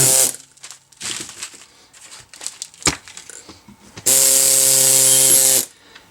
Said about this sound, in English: It is an air gasket scraper.